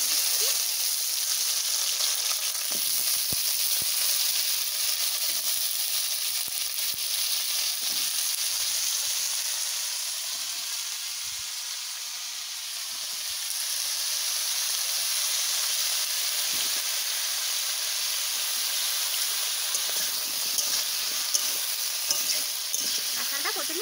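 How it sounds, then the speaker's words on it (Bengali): Jackfruit pieces frying in mustard oil in a kadai, a dense, continuous close-up sizzle and hiss with faint crackles throughout, dipping briefly in the middle before returning to full strength. "কাঁঠালটা প্রথমে ভাজা করে নেব।"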